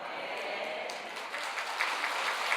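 A church congregation claps in sustained, faint, diffuse applause that fills the room steadily, distant and unbroken, without voices.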